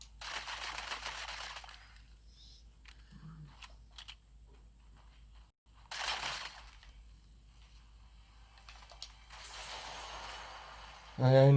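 SMG gunfire in Fortnite comes in three separate bursts, each a short rapid crackling volley, with quieter game ambience and scattered clicks between them and a louder thump at the very end.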